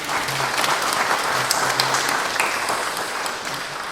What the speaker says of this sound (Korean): 예, 박수로.